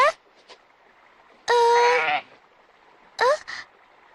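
A goat in a cartoon bleats several times, with short cries and one longer wavering bleat, close and clear against a quiet background.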